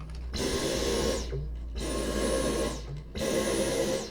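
A vacuum cleaner runs nearby in three steady bursts of loud, broad whooshing roar with a high whine, each lasting about a second, separated by brief dips.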